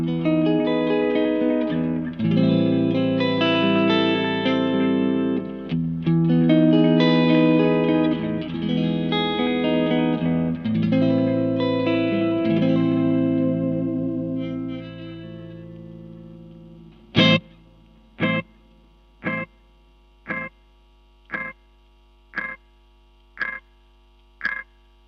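Clean guitar runs through a Caline Super Delay in analog mode, giving warm, tape-like echoes: a busy, effect-soaked passage, then a single plucked note repeating in a steady string of evenly spaced echoes that ring alone.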